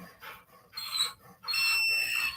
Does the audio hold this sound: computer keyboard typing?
no